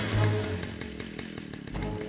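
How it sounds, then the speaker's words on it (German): A cartoon chainsaw is started with a pull cord and then runs with a buzzing, rattling engine drone that is punctuated by regular sharp clicks, close and fairly loud. "Ich schalte jetzt die Kettensäge ein."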